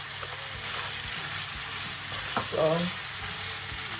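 Onion, garlic and scotch bonnet sizzle steadily in a hot pan while being stirred, with a brief clatter of the spoon midway; a voice speaks a single short word.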